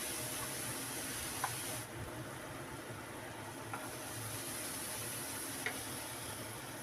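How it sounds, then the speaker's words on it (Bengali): Turmeric and chili powder masala stir-fries in a pan for egg masala Maggi. A steady, close sizzle hisses throughout, with a few faint clinks of stirring and no talking. "নেড়ে চেড়ে মশলাটা কষিয়ে নেব ভালো করে।"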